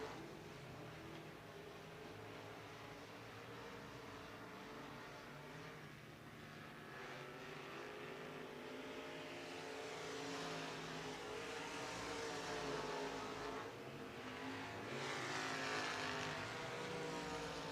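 USRA Limited Modified race cars roar around the Ark La Tex Speedway during a heat race, engines droning continuously and rising and falling in pitch as the cars pass. The roar is distant but swells louder toward the end.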